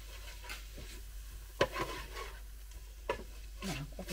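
Bolognese mix cooking in a Ninja Speedi, faintly sizzling as it is stirred, with intermittent scrapes and knocks of a utensil against the pot.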